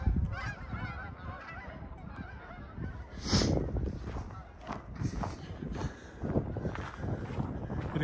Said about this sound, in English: Here go the geese overhead.